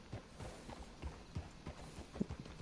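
Horse hooves clip-clop in Red Dead Redemption 2, a steady, fairly close rhythm of soft thuds as the horses walk, with little else over them.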